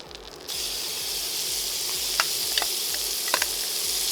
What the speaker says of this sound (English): now we're gonna go ahead and throw our bacon in.